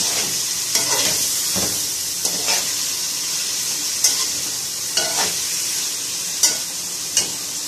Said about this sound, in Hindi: अब हम इसके अंदर कटे हुए टमाटर और हरी मिर्चें ऐड कर देंगे और अब हम इसको अच्छे से फ्राई करेंगे